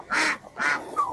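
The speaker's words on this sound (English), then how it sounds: "If a duck quacks, it's a female." A female duck quacks twice loudly and close, followed by a shorter, softer third call, with no other sound around it.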